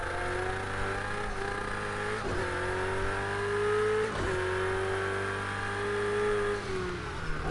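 A Ferrari race car engine in Project CARS 2 revs high and steady, its pitch climbing and dropping through several gear shifts as the car races on, loud and close with no talk.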